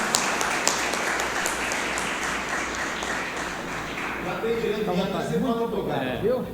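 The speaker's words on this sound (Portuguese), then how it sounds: "Gostaria de recebê-lo com a salva de palmas." A crowd at a jury-trial lecture applauds steadily to welcome a criminal lawyer to the stage, with a voice speaking over the clapping near the end.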